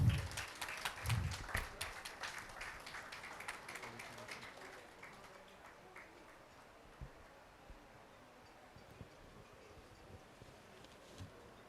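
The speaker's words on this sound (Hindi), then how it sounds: "सर के लिए तालियां तो बनती हैं।" Audience applause welcoming a guest onto the stage at a Garhwali film trailer and music launch event, a moderate burst of clapping that thins out and fades to scattered, faint claps.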